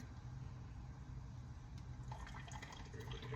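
Green homebrew ingredients in a strainer release a steady trickle of liquid, with continuous soft dripping and splashing up close, no talk.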